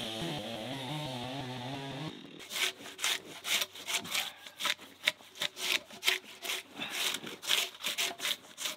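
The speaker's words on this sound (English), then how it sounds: "we were pole sawing" Rhythmic back-and-forth rasping of a pole saw cutting through wet hemlock branches, steady strokes close by, following a few seconds of music at the start.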